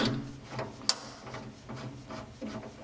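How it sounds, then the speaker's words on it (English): Minimax table saw outfeed access door being shut and latched, a sharp metallic click followed by light rubbing and bumping sounds in a quiet workshop. "The outfeed access door also needs to be closed and latched."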